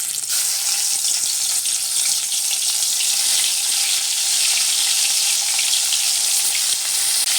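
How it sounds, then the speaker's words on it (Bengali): Shol fish fries in a small amount of hot oil, giving a steady, close, bright sizzle that crackles continuously without pause. "বাকি মাছগুলো আমি ওই একই রকম ভাবে ভেজে নেব।"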